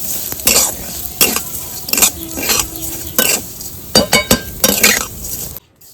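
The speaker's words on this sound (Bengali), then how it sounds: "সিমাইটা একটু লাল লাল করে ভেজে নিয়েছি" Vermicelli fried in white oil until reddish, with a spatula scraping and stirring through it in repeated strokes, light metallic clinks and a soft sizzle underneath, then a sudden stop.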